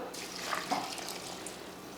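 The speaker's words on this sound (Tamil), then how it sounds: "இப்போ தண்ணி ஊற்றிடலாம்" Water pours steadily into a pot with a soft, continuous splashing rush.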